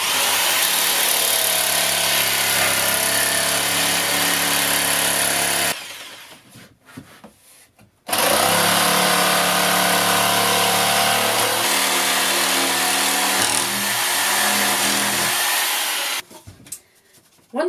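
A power saw cuts an outline from pallet wood for a sign, whining loudly and steadily in two long passes separated by a short pause, with no talking.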